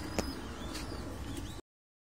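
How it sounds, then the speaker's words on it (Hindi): Fancy pigeons on a rooftop loft cooing softly, a few low throaty calls over faint background noise, then the sound cuts out abruptly near the end. "ये जी बहुत ही शानदार कबूतर, बहुत ही अच्छी बनावट का कबूतर"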